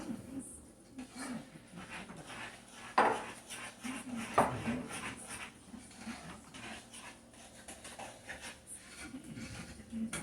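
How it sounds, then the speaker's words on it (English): A spoon scrapes and clinks against a pot while shredded coconut is stirred into a thick keto coconut cream pie filling, with soft irregular knocks, faint background noise and occasional voices. "Just get that all stirred in there and mixed well so it's all in together."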